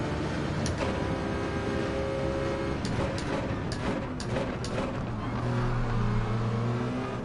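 A Citroen Gr3 race car engine in Gran Turismo 7, held at a loud, steady high-rev drone with a few gear-shift blips, then dropping to a lower tone toward the end.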